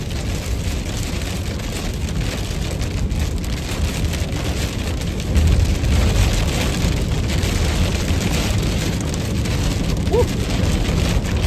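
Heavy rain pounds down hard and close during a powerful tornado-producing storm in Johnstown, Nebraska, a dense, unbroken roar of drops with a faint low rumble partway through.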